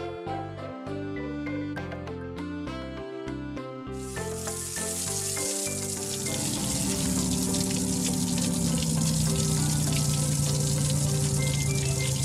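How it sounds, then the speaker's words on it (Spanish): Cartoon truck Lifty under a water shower: after a few seconds of music, a loud steady rush of spraying water begins and continues over the music to the end. "Lifty se está dando una ducha"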